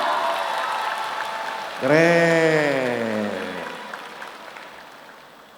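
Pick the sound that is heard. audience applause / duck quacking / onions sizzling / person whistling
audience applause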